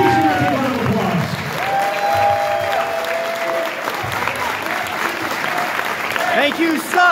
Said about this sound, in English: He's going to give a round of applause